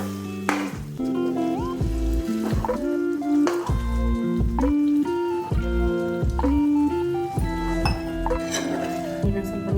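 Water trickles and drips into a thick brinjal masala gravy for ennegai palya, with repeated soft splashes and clinks of a utensil against the pot, close and fairly loud over background music.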